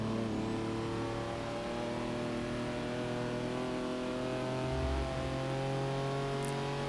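Porsche engine in the racing game Forza Motorsport 6 drones steadily at a constant pitch and loudness, a sustained cruising hum heard alone throughout.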